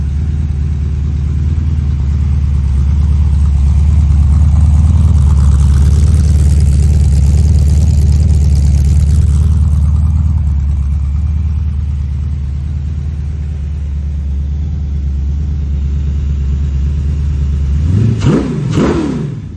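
A blueprinted, balanced 383 small-block Chevy V8 idles with a deep, loud rumble, swells through slow revs, then blips sharply up a couple of times near the end.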